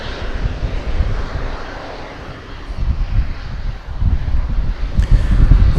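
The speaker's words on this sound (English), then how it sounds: "we got a plane coming down our way" American Airlines plane on approach at DFW Airport on a flight to Miami, a rumbling engine roar that swells and fades in uneven surges, buffeted by wind noise on the microphone.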